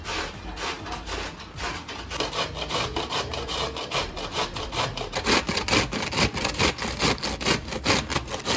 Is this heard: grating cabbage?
yes